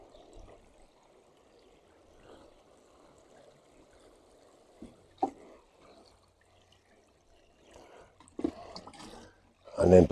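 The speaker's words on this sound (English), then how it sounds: "So we're just going to give it a gentle water." Garden plants being gently watered outdoors, a soft steady trickle running for several seconds with a few louder splashes and rustles near the end, partly under quiet talk.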